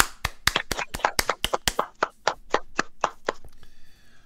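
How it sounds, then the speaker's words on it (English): A run of about fifteen sharp, close hand claps in a steady rhythm, the first ones louder and quicker, the later ones spaced and fading before a short quiet ending. "Everybody clap their hands."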